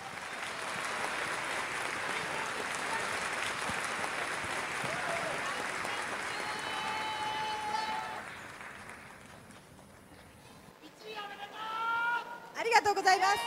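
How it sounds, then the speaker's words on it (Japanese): Audience applause greeting a speaker at a talk, a moderate steady clapping that holds for about eight seconds, then fades away before voices and other sounds come in near the end. "大きな拍手をお願いいたします"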